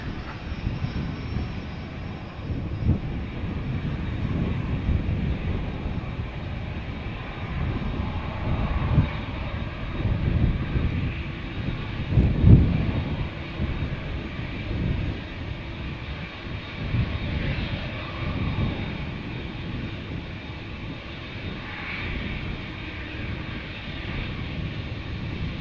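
Delta Airbus A330 jet departing Amsterdam Schiphol Airport, a steady, fairly faint roar of jet engines heard from a distance that swells slightly in the middle, with no talking.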